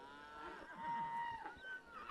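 Cattle mooing in a drawn-out, overlapping low bellow, moderately close, over soft background noise while cows are moved up a hill trail by a rider on horseback.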